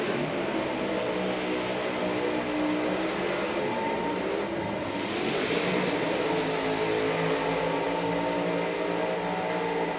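A Chevy Camaro drag car at a nitro drag racing event, its engine firing up and holding a loud, rough, sustained roar with rumbling harmonics that swells midway through and carries on for the whole stretch.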